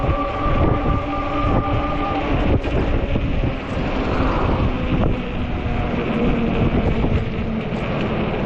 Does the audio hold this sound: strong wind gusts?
yes